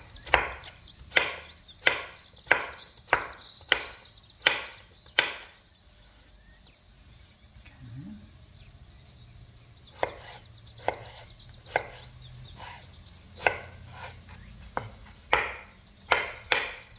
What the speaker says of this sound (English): now we will cut the potato